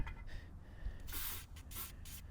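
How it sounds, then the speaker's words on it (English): White lithium grease sprayed from an aerosol can onto a lawn mower's blade area, heard as several short hissing bursts, the loudest a long spray followed by two or three quicker puffs, close to the microphone and alone. "got some white lithium grease. I'm going to spray a little bit in here."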